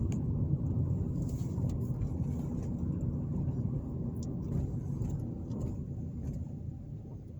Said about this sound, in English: I'm driving down Pearl Street right now.